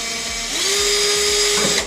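A power drill whirs up and holds a steady high-pitched drone, close by, while drilling a track bike part, before cutting off at the end.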